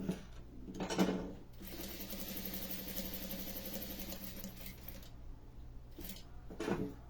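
A sewing machine runs a seam with a backstitch, giving a fast, even mechanical whir that lasts several seconds. It is soft and close, with short pauses at the start and the end.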